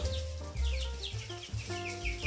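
Chickens cluck in short, repeated bursts against a constant humming background, several mixed-breed hens close by in a henhouse.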